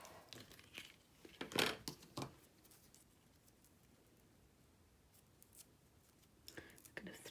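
Scissors snip a piece of silver craft material in a few short, crisp cuts with light crinkling, quiet and close, followed by a faint pause and more small handling sounds.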